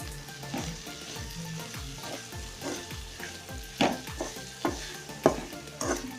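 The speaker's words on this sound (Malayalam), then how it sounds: "ഇനി നമുക്ക് നന്നായിട്ട് ഇളക്കി ഇതിനെ വേവിച്ചെടുത്താൽ മതി." Okra stirred in a pan for Kerala vendakka mezhukkupuratti, a spoon scraping and clacking in an uneven rhythm over a low, steady sizzle, with a few sharper knocks toward the end.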